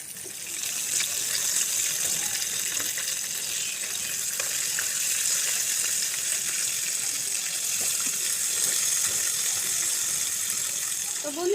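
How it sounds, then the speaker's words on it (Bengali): Chicken pieces fry in hot oil, giving a steady, bright sizzling hiss that holds evenly throughout, close and moderately loud, with faint kitchen clatter. "এটা আমাদের ভালো মতো ভেজে নিতে হবে ভেজে দেন আমরা উল্টিয়ে দিচ্ছি"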